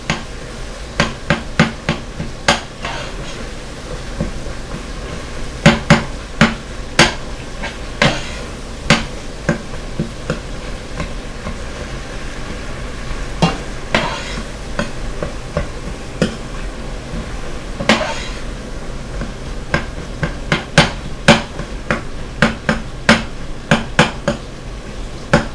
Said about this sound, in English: try to break the tomatoes up with your spoon